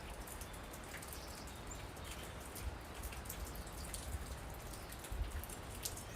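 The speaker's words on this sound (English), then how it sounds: "Now this morning it's raining." Rain falls gently and continuously on a morning in West Branch, Michigan, with scattered distinct drops and drips pattering close by over a quiet hiss.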